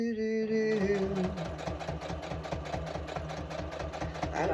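A sewing machine running steadily with a fast, even mechanical stitching rhythm, close and continuous for several seconds, while a person hums or talks softly at the start.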